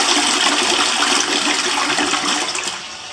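Water poured into a makeshift toilet in a temporary lakeside home, a loud, close rushing gush that runs steadily and then tapers off at the end.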